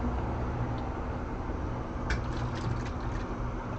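Water dosed with food-grade chlorine runs steadily through milking equipment on a dairy farm, a continuous rushing, trickling wash with a few brief splashy bursts partway through, close and fairly loud, with no talking.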